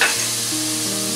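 Vegetable fried rice sizzles steadily in a hot pan while soy sauce is stirred through it, with a continuous loud frying hiss and faint scraping of the stirring, no talk.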